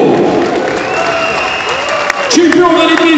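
Audience applause for a Paralympic champion at a ceremony, a steady wash of clapping from a large crowd that runs throughout, with a voice speaking over it near the end.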